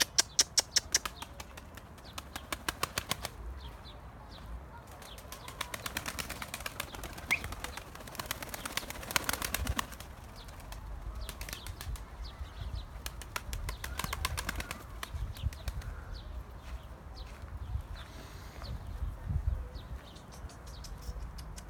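Pigeons take off and fly overhead, with bursts of flapping wings, clattering wingbeats and faint chirps outdoors, loud flurries near the start and middle that fade and return over a steady background.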